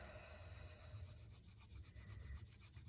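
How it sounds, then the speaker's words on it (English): Hands rubbing together during a quiet meditation session, a soft continuous brushing friction with faint rhythmic pulses, close and gentle over a low ambient hum. "Maybe doing a little rub of those hands."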